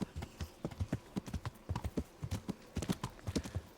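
A horse's hooves clip-clop at a brisk, uneven trot in the game Kingdom Come: Deliverance, with close, repeated thuds running continuously throughout.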